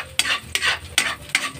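A spatula scrapes and stirs loudly in a noisy frying pan, four sharp rhythmic strokes over a steady sizzle, close and with no voices.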